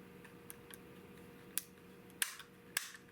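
A 16-gauge European guild double-barrel shotgun dry-fired, giving a few sharp, close metallic clicks spaced apart over a quiet background hum.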